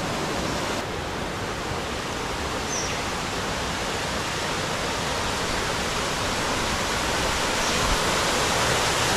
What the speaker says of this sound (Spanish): va la corriente y es una corriente bastante fuerte